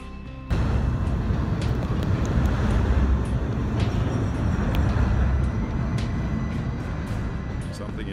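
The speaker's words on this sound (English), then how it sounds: "We time our passage to feel the energy of a train a few feet overhead." A train thunders across a double-deck swing span bridge a few feet overhead on the Mississippi, a loud, steady rumble with rattling clanks that starts abruptly and fills the whole stretch.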